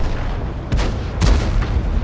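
Two booming artillery shots from an SU-8 self-propelled gun in World of Tanks, each a broad blast with a short rumbling tail over a steady game background hum.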